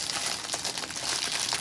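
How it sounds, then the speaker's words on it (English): Plastic tray packaging crinkles and rustles continuously up close, a dense crackling texture throughout with no talking, while materials are handled for a resin craft project. "Sorry for the crinkling"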